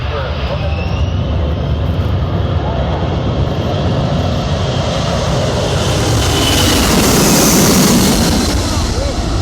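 A Boeing C-17 Globemaster III makes a low pass at the Tyabb Airshow, a loud, sustained jet roar that swells and shifts in pitch as it goes overhead, with crowd voices and commentary under it.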